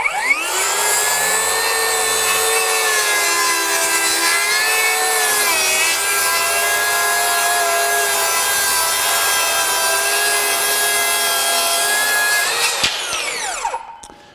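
Metabo HPT 36V 7-1/4 inch cordless circular saw ripping through wood in one steady, loud, close cut lasting over ten seconds, then spinning down as the motor stops.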